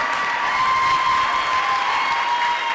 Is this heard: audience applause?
yes